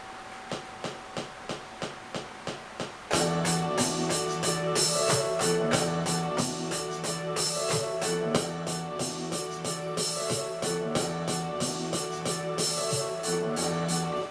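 Steady, evenly spaced hi-hat ticks play alone at first, then a fuller drum pattern with regular hits joins and continues at a constant tempo.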